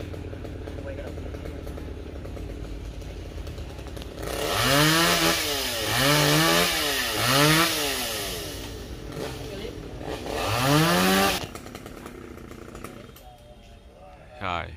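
A chainsaw revs through several rising and falling bursts while felling a coconut tree outdoors on a hot, still day, loud and close, with quieter idling between cuts.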